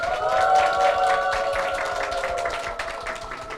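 A church congregation gives a blessing applause for a deacon and a young woman, steady clapping heard under sustained organ-like tones that hold through the whole stretch.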